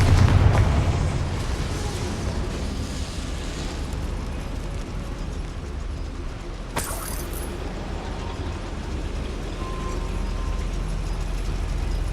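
A Confringo spell explodes in Hogwarts Legacy inside a goblin mine, a loud, sustained rumbling blast with a short sharp crackle partway through, trailing into a long low roar.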